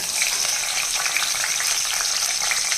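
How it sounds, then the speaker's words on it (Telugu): Slit green chillies fry in hot oil, giving a dense, continuous close sizzle with faint crackling and no voices. "ఈ ఆయిల్ కొంచెం వేడైన తర్వాత ఆరు పచ్చిమిరకాయలు తీసుకుని ఇదిగోండి మధ్యలోకి ఇలా చీల్చేసి వేస్తున్నాను"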